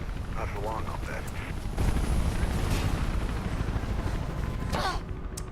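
A helicopter in the video game Mirror's Edge gives a steady loud rotor rumble that swells midway, with brief voices and faint game sounds over it.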